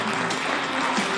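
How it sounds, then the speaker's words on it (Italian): A short, steady burst of studio audience applause on an Italian sports talk show, close and fairly loud, lasting only about a second. "Facciamo un applauso."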